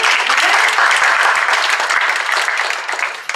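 Audience applause fills the room, a dense, steady wash of clapping held at full strength for a few seconds before starting to thin toward the end.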